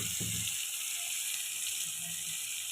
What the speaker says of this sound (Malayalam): അപ്പോൾ നമുക്ക് വെണ്ടക്ക പൊരിക്കാം.